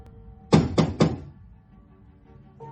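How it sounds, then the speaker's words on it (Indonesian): Three quick, firm knocks on a door, evenly spaced and fairly loud, followed by a quiet room. "Sebuah ketukan di pintu membuyarkan lamunan Leonard."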